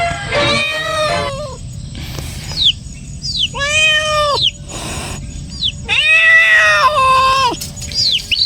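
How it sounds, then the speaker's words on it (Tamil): A house cat caught in a trap meows loudly and repeatedly, long drawn-out wailing cries in several bursts over steady outdoor background noise. "பார்த்தீங்களா, இங்கே பூனை மாட்டி கிடக்குது."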